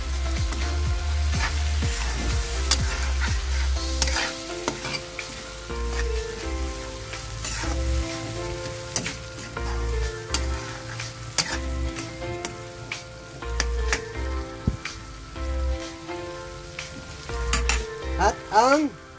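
Corned beef fries in a hot pan with a constant crackling sizzle, broken by scraping and tapping as a utensil stirs it repeatedly.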